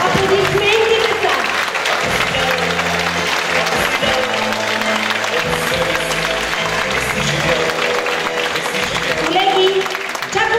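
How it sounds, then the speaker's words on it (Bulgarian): A hall full of students and guests applauds a teacher at a Bulgarian high school graduation ceremony for the 2024 class; sustained, even crowd clapping continues for about ten seconds with some talk underneath. "Аплодисменти, деца!"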